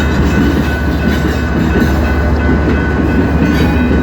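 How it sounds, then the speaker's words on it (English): A freight train rolls back into a rail yard near the Mykawa crossings at T&NO Junction, its steady low rumble and wheel noise continuous and close, with no voices. "Train is coming on back into the yard now."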